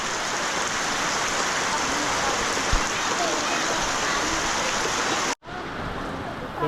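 Steady, dense rainfall hisses loudly and continuously across the scene in a rural Lao village, with a brief break near the end before the downpour resumes.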